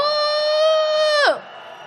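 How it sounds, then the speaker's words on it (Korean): A booing call aimed at the Japanese embassy during a candlelight protest march in Korea. A single strong voice holds a long, loud 'ooh' for over a second, then slides sharply downward and fades, leaving quiet background. "일본 대사관을 향해서 야유의 함성 한번 보내보겠습니다."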